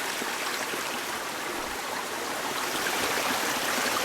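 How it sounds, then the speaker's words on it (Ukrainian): Steady rushing of a river flowing over rocks, a constant broad wash of water with no voices. "шум річки"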